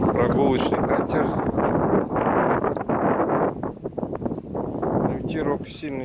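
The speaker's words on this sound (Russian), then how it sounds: "Ветерок сильный сегодня." Strong wind buffets the microphone beside a lake in Schwerin, Germany, a loud, rough, continuous roar with a voice partly buried beneath it.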